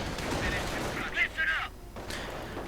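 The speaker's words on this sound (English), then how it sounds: "MG42 opening up" An MG42 machine gun firing in a WWII strategy video game: short, rapid bursts of gunfire at moderate volume, partly under a commentator's voice.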